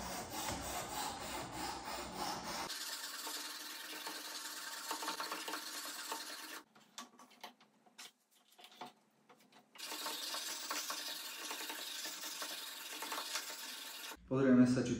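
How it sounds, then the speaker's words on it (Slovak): Steady rasping strokes of a flat-ground pocket knife blade drawn across a sharpening stone on a Work Sharp Benchtop sharpener, continuous and close, with a brief pause midway before the grinding resumes. "Brúsny kameň a uhol je nastavený, môžeme sa pustiť do brúsenia."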